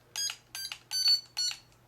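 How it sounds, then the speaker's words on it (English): Four short, bright electronic beeps from a UDI U830 R/C drone transmitter during trim adjustment, evenly spaced in two pairs, clear and close over a faint low hum. "And so 2 beeps is forward and backward."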